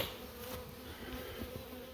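Honey bees settle into a new beehive, a dense, steady buzzing hum of many insects that fills the whole stretch at close range, with no voices.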